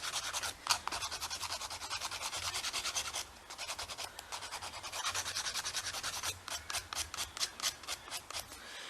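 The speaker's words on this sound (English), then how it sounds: "while you buff, make sure you go to fill any gaps" Nail buffer rubbed briskly across a fingernail, a close, soft rasping scrub repeated in rapid back-and-forth strokes, steady at first and then breaking into distinct rhythmic passes.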